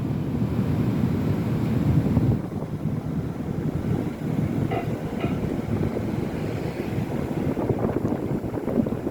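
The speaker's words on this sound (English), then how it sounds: "It's a little windy, but that's not too bad." Steady wind roars across an exposed waterfront outside a hospital as a hurricane approaches, a constant loud low rumble of buffeting gusts on the microphone with no voices.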